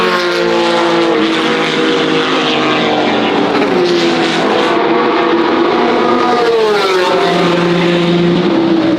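Classic race cars lapping the Montjuic street circuit in Barcelona, engines revving and shifting as they pass, heard from a rooftop; a continuous loud mix of several engines rising and falling in pitch.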